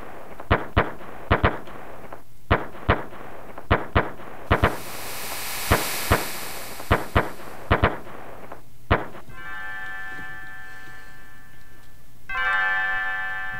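Fireworks exploding in the Chrono Trigger video game, a string of sharp retro-style pops in uneven bursts, then a sustained fizz and bright chiming game tones toward the end.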